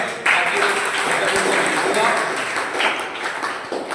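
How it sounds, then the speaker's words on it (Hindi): Audience applause for a politician at a school honour ceremony in Rajasthan, a dense steady wash of many hands clapping throughout, fairly loud and continuous. "पर एक बार मैं चाहता हूं राजेंद्र सिंह राठौड़ के लिए आप तालियां बजाएं"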